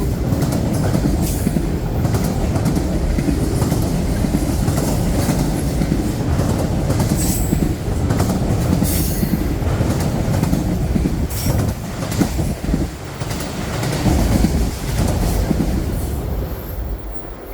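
An eastbound freight train with DPUs gets rolling, a loud continuous rumble of rail cars with clicking wheels and occasional squeals close by, steady throughout.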